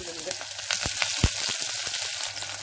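Thinly sliced onions frying in hot oil for a Madurai-style salna, a steady close sizzle with a few sharp crackles and stirring clinks throughout.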